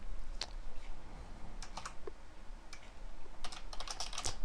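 Typing on a computer keyboard in short bursts of clicking keystrokes, fairly close and moderately quiet, with pauses between bursts and a steady low background hum.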